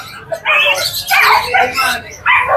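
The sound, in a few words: dogs barking at a pet shop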